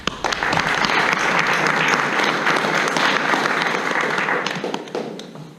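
An audience at a public meeting for a French municipal election breaks into steady, lively applause. Many hands clap at once for several seconds, then the sound fades out.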